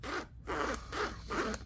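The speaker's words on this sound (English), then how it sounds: "The zippers are really nice" Several quick zips of a smooth zipper on a nylon EDC kit pouch, opened and closed in four close, brisk back-and-forth strokes with brief pauses between.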